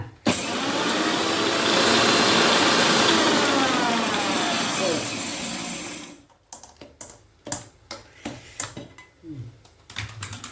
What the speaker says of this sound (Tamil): நம்ம பூண்டெல்லாம் அரைச்சிடுவோமா?